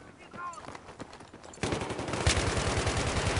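Automatic machine gun fire in the Battlefield 3 video game: a steady burst of rapid gunshots kicks in partway through and continues under light background noise, with players talking over the game audio.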